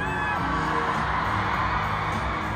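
Dense, steady screaming and cheering from a large crowd of concert fans at a show in Bulacan, a continuous loud roar with high shrieks throughout and no clear gaps.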